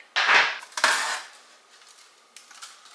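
Tin pans clatter and scrape as they are handled in a kitchen cupboard, two loud metallic bursts close by followed by fainter knocks, with no talking.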